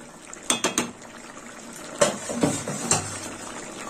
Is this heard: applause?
no